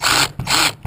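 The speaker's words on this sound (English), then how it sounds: "Stick it on your drill or your screwdriver" A power drill or screwdriver runs in two bursts with a short gap, driving a screw while assembling a Traxxas Stampede RC truck, loud and close with no talking.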